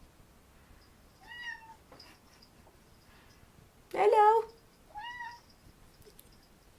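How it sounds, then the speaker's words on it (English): A house cat meows three times in a row, each call near and fairly clear, with a louder, harsher meow in the middle; a person speaks a quiet greeting alongside. "Here comes the cat."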